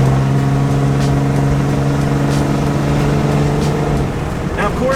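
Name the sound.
Cummins diesel truck with straight pipe exhaust accelerating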